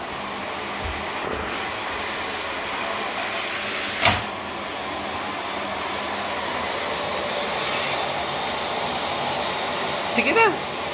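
A vacuum cleaner drones steadily over carpet throughout, with a sharp knock near the middle and a few faint bumps toward the end.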